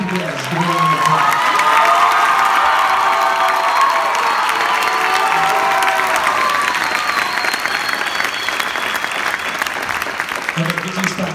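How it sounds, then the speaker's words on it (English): Loud audience applause and cheering at a school band event marking the end of the football season, a dense, steady roar of clapping and shouts filling the whole stretch, with a voice briefly audible at the start and end. "Martha, you can give us a round of applause."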